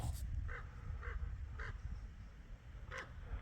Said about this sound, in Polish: Ale zobaczcie, kruki latają.